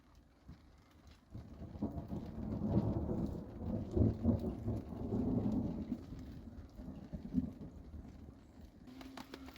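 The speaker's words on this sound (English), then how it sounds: "Now here comes the rain" Rain and rolling thunder outdoors during a storm, a low rumble swelling in from a quiet start and lingering for several seconds over a steady wash of rainfall, with no talking.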